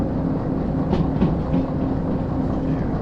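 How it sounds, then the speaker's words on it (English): Steady rolling rumble of a train in the VR train simulator Derail Valley, a continuous mechanical drone with faint rhythmic clatter, moderately loud and alone. "I hear the train sounds good"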